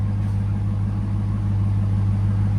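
Dodge Durango R/T 5.7L HEMI V8 fitted with an X-pipe and Carven R-Series exhaust, idling with a deep, steady, loping rumble heard up close and alone.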